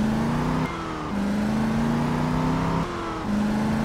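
A car drives in the video game Just Cause 2, its engine droning steadily with pitch climbing through the gears and short drops at each shift, loud and close.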